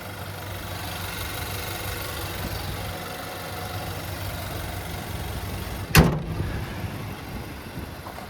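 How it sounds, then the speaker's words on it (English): A 2023 Nissan Titan XD SV's 5.6-litre Endurance V8 idles steadily with the hood open, a low continuous engine hum broken near the end by a single sharp thump, like a door or hood being shut. "There's that Endurance V8."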